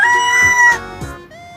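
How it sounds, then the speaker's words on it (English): A rooster crows loudly and close, a drawn-out harmonic call that rises and falls, followed by a shorter tailing note, with no talking. "ROOSTER rooster."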